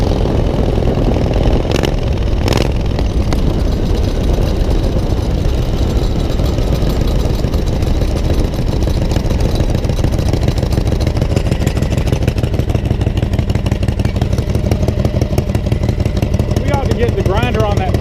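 A 670cc automatic chopper motorcycle engine runs loud and close, a steady throbbing drone that rises as the bike accelerates along the road, with some rattling underneath.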